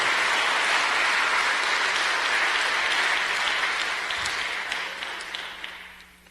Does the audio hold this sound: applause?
yes